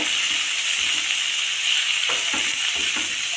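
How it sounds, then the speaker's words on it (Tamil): Onions sauté in a pan with asafoetida, producing a loud, steady hissing sizzle with a few brief stirring knocks in the second half. "வெங்காயம் நல்லா வதங்கட்டும்"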